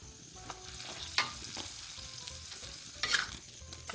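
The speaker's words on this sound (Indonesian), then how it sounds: "Kita aduk-aduk," Vegetables for capcay being stirred in a pan with water, scattered scraping and clinking of a utensil against the pan over a soft sizzle, with a few sharper scrapes, close and fairly quiet, no talking.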